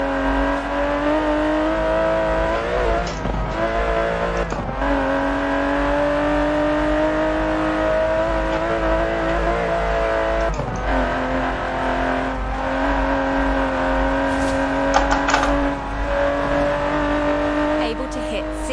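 Aston Martin DB11 with a 5.2-litre twin-turbo V12 in Forza Horizon 4, revving hard through rising gears with brief shift breaks, loud and sustained with tire noise.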